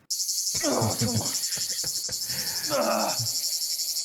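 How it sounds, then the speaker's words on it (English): A constant, high buzzing drone of insects runs throughout, with a voice speaking underneath in the foreground. "Oh, he still hears the cicadas."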